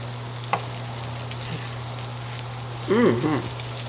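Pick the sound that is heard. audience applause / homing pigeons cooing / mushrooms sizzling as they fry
mushrooms sizzling as they fry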